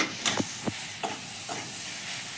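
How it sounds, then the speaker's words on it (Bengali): A spoon stirs taro greens in a pan after sugar goes in, with a soft sizzle running underneath and four or five short scraping strokes spaced through it, heard close with no voices. "দিয়ে এবার আমি একটু নেড়ে নেব"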